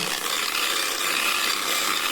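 A stone surface is polished with silicon carbide velcro sanding discs on a rotary tool, giving a steady, loud, gritty abrasive rasp that continues without pause, close up and with no talking.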